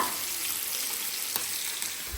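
Sardines sizzle loudly and steadily in hot oil, a continuous crackling fry close by with a faint scrape near the end.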